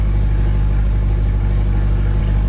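A Chevrolet Corvette C8 supercar engine from the Roblox game Southern Mudd starts cold and settles into a steady, deep, loud drone that holds without a break.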